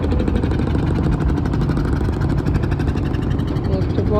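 A large launch boat's engine passing on the Ganges at Kedar Ghat in Varanasi, a loud, steady, close low droning rumble that fills the whole stretch without letup.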